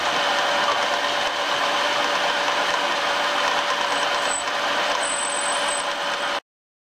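Homemade sewer slinger machine running, a dense steady mechanical whir and rattle with faint tonal hum, loud and continuous until it cuts off abruptly near the end.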